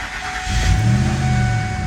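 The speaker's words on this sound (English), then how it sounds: "Turn the car back on." A 2001 Ford car engine cranks and starts at about the half-second mark, then settles into a steady, close idle with a low rumble and no voices.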